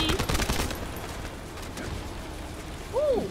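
Gunfire in a shooter looter video game: a rapid burst of automatic fire up front that thins to scattered faint shots, followed by a short electronic chirp.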